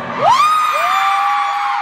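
A concert crowd in Mexico City in 2016 cheers and screams loudly, with shrill, sustained rising shrieks over a dense, continuous wall of crowd noise.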